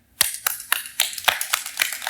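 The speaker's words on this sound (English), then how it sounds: "actually don't clap for that" Hands clap in a steady, fairly sparse rhythm at a church gathering, about eight distinct sharp claps close by over two seconds with no voices.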